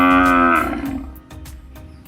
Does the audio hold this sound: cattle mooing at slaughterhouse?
yes